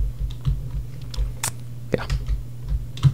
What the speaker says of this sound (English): I feel like literally smashed my buttons on my keyboard